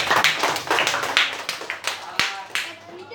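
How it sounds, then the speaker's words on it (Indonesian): Children in a classroom clap their hands in a quick, uneven burst of claps that tapers off, with some voices mixed in. "Oke, tepuk tangan."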